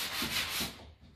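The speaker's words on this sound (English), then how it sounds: "can see there then all the paint coming off as well, so it's distressing really nicely" Sandpaper rubs firmly across painted wooden furniture to distress the finish, a close, steady scraping in a couple of strokes that fades out at the end.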